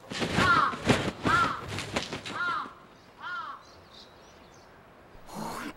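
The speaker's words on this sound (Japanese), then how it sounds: "本当嫌なカラスね。" Several harsh crow caws come in a quick run, loud and close, then a couple of fainter calls follow after a pause, with a final caw at the end.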